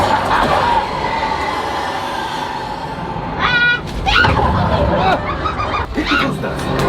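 Train rumbling and screeching with metallic squeals during a theme park ride's missile-firing chase sequence, loud and close, with crowd babble and shouted voices over it.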